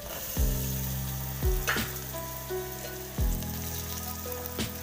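Chopped onions and potatoes hit hot oil in a Kathiyawadi vaghareli khichdi tempering, sizzling loudly in three sharp bursts as each batch drops in, then settling into a steady fry with a few stirring clinks.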